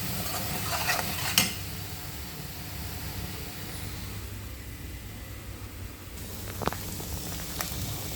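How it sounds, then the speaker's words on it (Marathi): Onion, ginger-garlic and tomato paste fries quietly in oil as a soft, steady sizzle, with a couple of clear utensil clinks against the pan. "कांदा, अद्रक लसूण आणि टोमॅटोची पेस्ट चांगली तेलामध्ये फ्राय झाल्यानंतर, तेल सेपरेट झाल्यानंतर"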